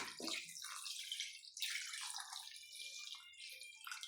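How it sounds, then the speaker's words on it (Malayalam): Water splashes and pours into a pot of mutton curry in a few uneven bursts, close and fairly quiet. "ഇനി നമുക്ക് ഇതിലേക്ക് വേവാനായിട്ടുള്ള വെള്ളം ഒഴിച്ച് കൊടുക്കാം"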